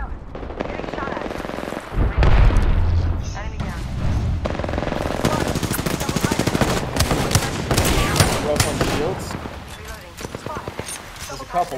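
Gunfire in the battle-royale video game Apex Legends crackles in rapid automatic bursts and scattered shots over a dense mix of game effects, with someone talking over the action.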